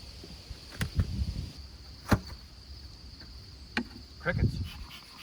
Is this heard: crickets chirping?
yes